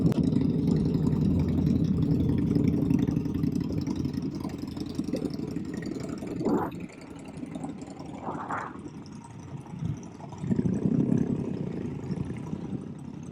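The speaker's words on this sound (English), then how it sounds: "Now what you're hearing are two motorcycles. So that was not somebody's car having troubles." Two motorcycles idle nearby outside an apartment complex, a low steady rumble that softens midway, with a couple of brief higher revs and a louder burst near the end.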